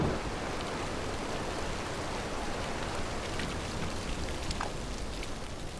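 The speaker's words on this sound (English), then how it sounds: "torrential rain now turned the battlefield into a quagmire" Torrential rain over a muddy battlefield on Okinawa in archival wartime footage: a steady, dense hiss of downpour with scattered drop patter and no voices.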